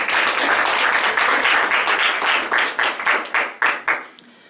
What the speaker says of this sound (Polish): Tutaj proszę o brawa dla pana Tadeusza.